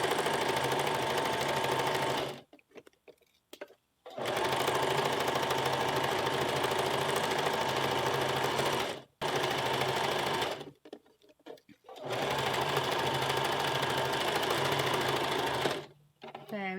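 A sewing machine set to stitch length 2.5 stitches a western blouse bow in loud, steady runs of motor whir, broken by three short pauses as the fabric is turned.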